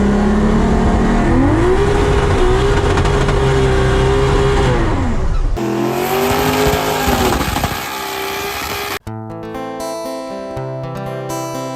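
A GM Vortec 4200 inline-six engine revs up and down in long, loud sweeps, holding high revs before dropping off; music takes over near the end.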